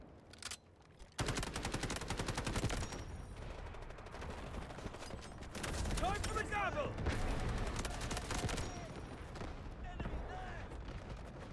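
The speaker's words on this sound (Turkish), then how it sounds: "Kanka seni de vuracağım bekle" Sustained heavy gunfire in the Delta Force shooter game, loud, dense automatic bursts that continue almost without pause after a brief quiet opening, with occasional talk underneath.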